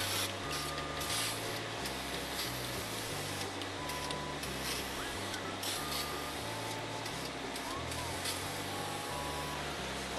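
Steady, continuous hiss of a spray can applying a primer coat to a wire mesh gate, close and loud, with a low mechanical hum underneath throughout.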